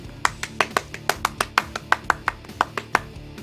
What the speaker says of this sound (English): Round of applause, Bungie.